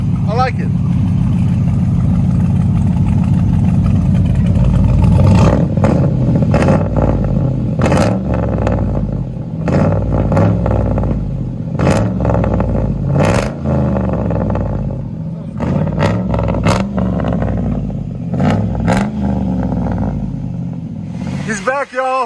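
A cammed 6.0L V8 Chevy work van with true dual exhaust revs repeatedly up close, deep lumpy idle broken by sharp throttle blips and roaring climbs that fall back, with voices talking over it.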